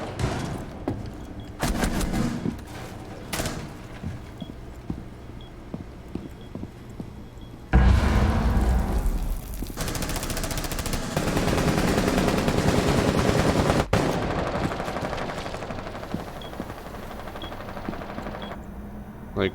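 Rapid gunfire from the video game Rainbow Six Siege, with sustained dense bursts of shots, loud and continuous through most of the clip, broken by short pauses and a sharp drop partway through.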